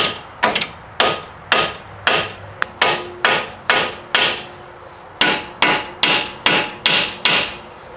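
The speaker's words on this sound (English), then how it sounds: "I'm going to give it a little tap. Seat it with my hammer." A hammer strikes a front strut on a 2010-2013 Mazda 3 repeatedly in a steady rhythm to seat it, about fifteen sharp ringing taps with a brief pause partway through.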